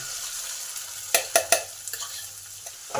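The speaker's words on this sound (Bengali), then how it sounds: "এই পেস্টটাকে কন্টিনিউ নেড়ে যেতে হবে কারণ কন্টিনিউ যদি না নাড়া হয় তাহলে কড়াই ধরে গিয়ে পুরটার টেস্ট খারাপ হয়ে যাবে" A bean paste filling for kachori is stirred as it fries in a kadai with chilli, cumin and asafoetida, giving a soft sizzle broken by three quick metallic spoon knocks and a few lighter scrapes.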